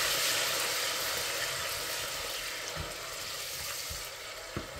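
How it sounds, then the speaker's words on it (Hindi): Tomatoes with turmeric and chili frying in a pan, a steady broad sizzle throughout with a few soft stirring knocks near the end, no voices. "अब शामिल कर देंगे टमाटर इसमें। अब इसको भूनेंगे अच्छी तरह।"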